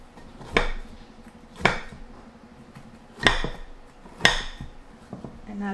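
A spoon or spatula levering condensed milk custard pudding with crumbs out of a baking tray, making four distinct metallic scrapes and clanks against the tray, spaced about a second apart, close and clear.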